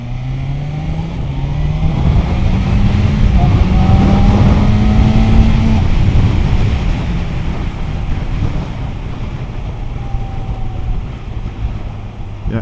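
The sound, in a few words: BMW M1000XR motorcycle riding, engine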